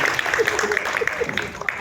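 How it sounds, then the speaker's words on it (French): An audience applauds a hip-hop dancer and dance teacher as he is welcomed at a live event, with brisk claps heard under a voice talking over them. "un tonnerre d'applaudissements pour Alexis"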